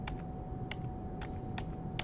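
Keys on a computer keyboard are pressed for a Control D shortcut in Tinkercad: five crisp, evenly spaced clicks over a quiet room hum.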